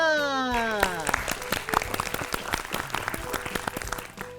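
Enthusiastic applause from a group on a children's dental-care show, dense overlapping claps filling the whole stretch, with a brief tonal chime sweeping at the start.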